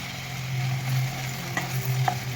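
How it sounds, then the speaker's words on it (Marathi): Onion and tomato sautéing in a hot pan for masala dosa filling, a steady close sizzle with a few scraping stirs of the spatula and brief clinks, no talk. "एक टमॅटो घेतलेला आहे त्यांना पण त्याला आपण चांगला मऊ होईपर्यंत परतून घेऊया"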